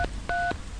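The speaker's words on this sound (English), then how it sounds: "so I pulled out my cell phone to call Samantha." Cell phone keypad tones beep as a number is dialed, three quick clear tones in under a second, close and alone.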